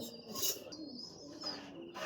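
Pigeons cooing in a loft, a few soft overlapping coos and light chirps close by, with a fairly constant level and no talk.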